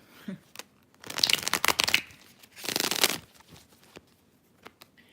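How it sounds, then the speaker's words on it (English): Two bursts of tarot card shuffling, a crisp riffling flutter each lasting about a second, separated by a short pause, with a few faint handling taps around them. "Okay, one more shuffle."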